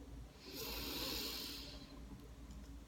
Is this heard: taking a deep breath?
yes